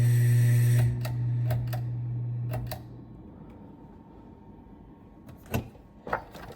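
A brand-new 52-inch Hampton Bay Carriage House II ceiling fan runs with loose screws, giving a steady motor hum that fades after a few seconds, punctuated by sharp intermittent clicks and ticks.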